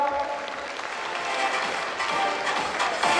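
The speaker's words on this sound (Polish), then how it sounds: "Brawa pani!" Steady applause from a crowd honoring a player at a youth football gala, continuous clapping filling the room at an even level throughout.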